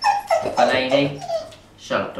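Pet dog at home whimpering and yipping in short high-pitched bursts, close by and loud, mixed with a voice talking over it.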